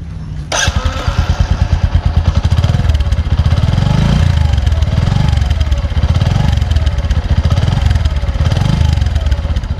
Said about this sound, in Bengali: এটার যে ইঞ্জিনের সাউন্ড খুবই সুন্দর লাগছে